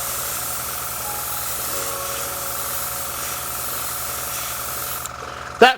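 An airbrush sprays freshly unclogged, giving a steady loud hiss that holds evenly for about five seconds before cutting off with a brief clatter at the end.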